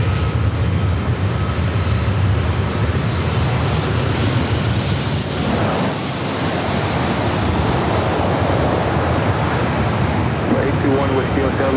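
A Delta Boeing 737-800 from Seattle arrives at San Diego airport on runway 27, making a loud, steady broadband roar that fills the whole stretch without letup.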